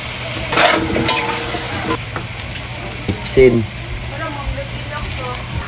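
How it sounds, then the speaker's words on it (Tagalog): Chicken pieces sautéing in a pan for tinola, a Filipino chicken soup with chayote, with steady frying noise and occasional stirring scrapes alongside a persistent low hum. "Sangkutya muna natin ito mga idol ng ganito para matanggal talaga din po yung lansa"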